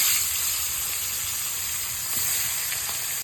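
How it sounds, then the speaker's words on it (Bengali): Tilapia fish fry in hot oil, giving a steady, continuous bright sizzle and hiss that holds evenly throughout without pauses. "তেলটা গরম হয়ে গেছে, এবার মাছগুলো ভেজে নিই।"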